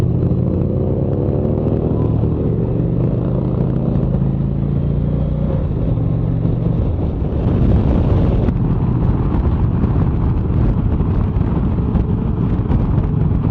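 A motorcycle cruising on an interstate near Las Vegas. Loud, steady engine drone is overlaid with heavy buffeting wind noise on the microphone, with a brief change in engine pitch partway through.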